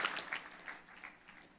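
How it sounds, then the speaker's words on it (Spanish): A church congregation claps at a Spanish-language sermon, a faint, uneven patter of hands that rises briefly and then thins out. "Dele un aplauso al Señor."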